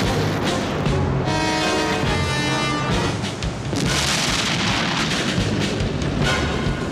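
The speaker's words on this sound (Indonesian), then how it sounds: "Tank panzer Jerman langsung melepaskan tembakan demi tembakan dan menghancurkan setiap bangunan yang ada di sana." Continuous heavy booming of German tank cannon fire and explosions destroying buildings in a war film, loud and dense throughout, with rumbling blasts layered over one another.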